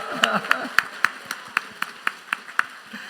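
At a church autumn special gathering, a congregation claps in a steady, even beat of sharp, distinct claps, about four per second, fairly close and moderately loud.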